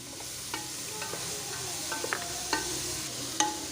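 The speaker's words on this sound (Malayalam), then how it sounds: "കുറച്ച് സ്പ്രിംഗ് ഒനിയനും കൂടി ഇട്ട് നന്നായി വഴറ്റുക." Capsicum, carrot and spring onion sautéing for chicken noodles make a constant sizzle, broken by light, scattered spatula taps and scrapes.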